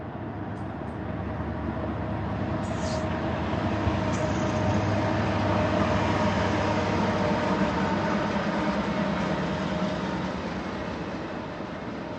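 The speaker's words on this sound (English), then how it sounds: "That's the Burlington Northern Santa Fe Railroad." A long Burlington Northern Santa Fe (BNSF) train passes just below a waterfront viewpoint in Mukilteo, Washington, a loud, continuous rolling rumble and rail clatter that holds steady throughout with no talk.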